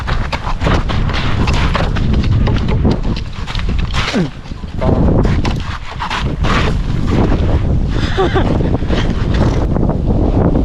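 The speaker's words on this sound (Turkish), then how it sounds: "Rüzgar gördünüz şimdi." Strong wind roars and buffets the microphone continuously, with a brief lull midway before gusting loudly again.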